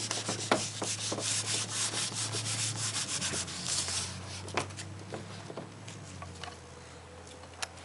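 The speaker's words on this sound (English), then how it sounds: "The board is completely full, so I'll just rub out the nephritic and nephrotic syndrome" Whiteboard being wiped clean with an eraser in a lecture room, a steady scrubbing rub with quick strokes that continues for several seconds, then thins out, with a low hum underneath and no talking.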